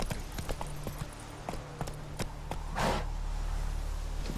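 A horse's hooves clip-clop at a steady trotting pace in Witcher 3, with even, moderately loud beats and a brief whoosh in the middle, over constant background noise and no talk.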